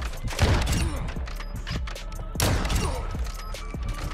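An MK2 gun fires in a video game, with two heavy, booming shots about two seconds apart over a dense, rumbling game background.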